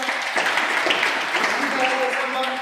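Applause from an audience at a DXN product talk, a steady wash of clapping hands across the whole short stretch.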